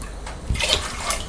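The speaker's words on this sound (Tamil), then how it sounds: "இதுலேயும் 2 கப் அளவுக்கு தண்ணி விட்டுக்கலாம்." Water is poured into a vessel of urad dal for a Tirunelveli-style rice dish, a short close splashing gush without speech.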